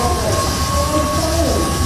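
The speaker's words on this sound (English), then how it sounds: "So that was the tram ride around the park." Tram ride at the Night Safari park in Singapore at night, with a steady rolling rumble, faint wheel squeal and mechanical hum continuing unbroken at close range.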